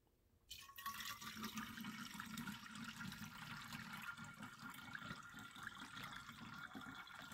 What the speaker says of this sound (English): Here's the bleach that I'm going to be pouring in here next.